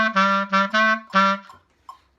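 Bb clarinet plays a short beginner phrase, a few sustained, clear woody notes in a row with brief gaps, then a soft tail and a faint click at the end.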